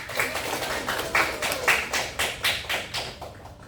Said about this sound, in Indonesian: Tepuk tangan dulu dong buat Septi yang sudah.